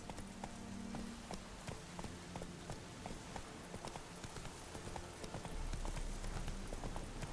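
Horse hooves clip-clop at a steady riding pace in The Witcher 3, each footfall clearly separated, over a constant low wash of rain and ambience.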